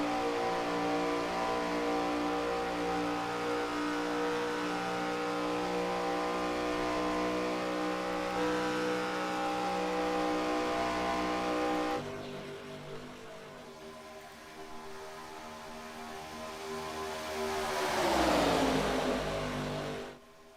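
Stock race cars racing at Talladega, a loud continuous engine roar with sustained revving that drops briefly and then swells again as cars pass close.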